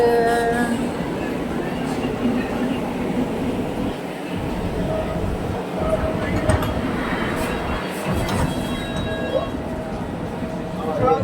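A London Underground train at Finchley Road station rumbles along the platform with a continuous heavy rolling roar, rail clatter and faint squeals, loud and close throughout, with a voice speaking over it.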